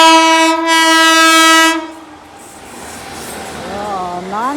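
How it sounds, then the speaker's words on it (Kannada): A non-stop train passes by. A loud, sustained horn blares first, then the horn cuts off and a lower rumble of the cars rolls past, with a voice briefly heard at the end. "Non stop guys train ನಿಲ್ಸಲ್ಲ, ಹೋಯ್ತಾನೆ ಐತದು."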